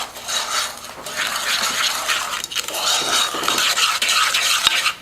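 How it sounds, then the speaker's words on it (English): Sugar and flour being mixed together in a pot or bowl for banana pudding custard, with a continuous scraping and clinking of a utensil stirring steadily, close and fairly loud, no talking. "We're going to get this going, mix it all together really well."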